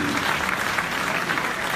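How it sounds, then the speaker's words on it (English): Steady applause from a large audience at an awards event in New York, a dense wash of clapping sustained evenly throughout the brief moment. "please join me in applauding our partners"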